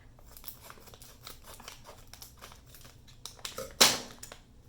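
Scissors cutting open Disney limited edition pin packaging, a run of soft snips and crinkling plastic ending in one sharp, louder cut near the end.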